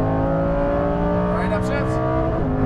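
A Lamborghini Huracan Performante sits at full throttle on the Exotics Racing track in Las Vegas, its engine droning loud and steady with rising harmonics and a brief tire squeal, while an instructor talks over it.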